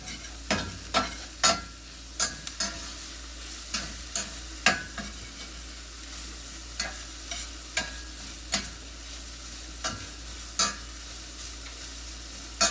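Sliced red onions sweating and sizzling in a pan, with a steady low crackle and repeated sharp scrapes of a spoon or spatula stirring them at close range; no one talks.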